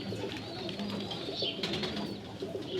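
Pigeons coo softly and repeatedly, their low throaty calls overlapping in a steady murmur against quiet background noise.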